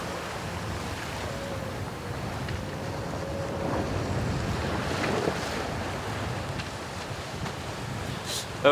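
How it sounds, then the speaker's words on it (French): Wind roars steadily and waves wash past a sailboat crossing the Atlantic at 7 to 9 knots near the coast, with a constant rushing wash and buffeting on the microphone throughout. "Près des côtes, le vent forcit et on trace entre 7 et 9 nœuds."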